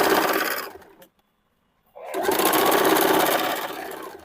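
A sewing machine runs steadily stitching the side seam of a princess-cut kurti, stopping for about a second of silence before starting again and running loud and continuous to the end.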